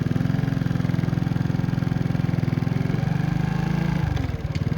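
A motorcycle engine thumping at a steady idle with rapid even pulses, loud and close, changing pitch and rhythm near the end as it shifts into first gear.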